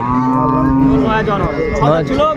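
A cow moos loudly and close at a busy cattle market where cows with calves are for sale, one sustained low call with a rising tail, crowd noise faint beneath.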